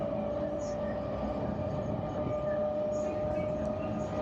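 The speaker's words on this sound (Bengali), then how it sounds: "দেখুন এক্সিলেশনটা খুব ভালোই করলো গাড়িটা।" Kolkata local train running between Sealdah and Howrah near Noapara picks up speed, a steady loud rumble of wheels on track with a sustained tonal hum throughout, heard from on board.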